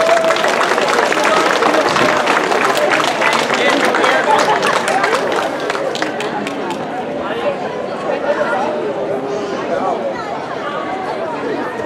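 Audience applause and clapping for young gymnasts at a gymnastics exhibition in Meda, heard as a dense, continuous patter of many hands that stays loud throughout, with crowd chatter mixed underneath.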